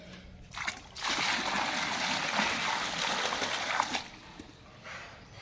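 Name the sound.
water being poured to clean a bird water spot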